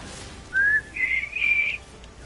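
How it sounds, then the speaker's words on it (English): Someone whistles a short, cheerful tune in three rising, clear notes over a quiet background, lasting about two seconds with no talking. "Can't have you whistling happily"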